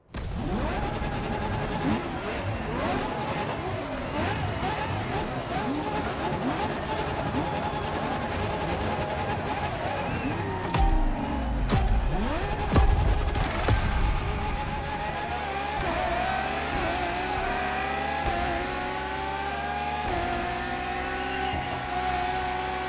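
LaFerrari supercar in The Crew Motorfest, its engine revving and shifting through rising and falling pitches, loud and continuous with a louder surge midway.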